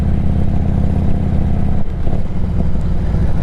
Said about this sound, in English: We're riding the Road King today.